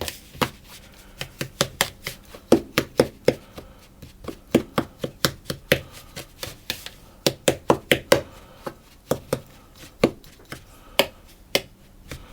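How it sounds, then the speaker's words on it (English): Crystallised ginger is broken up and stirred into shortbread mixture, giving a steady series of sharp close knocks and taps against a bowl, irregularly paced, with no talk. "my crystallised ginger, and I'm going to just break that up and stir it around"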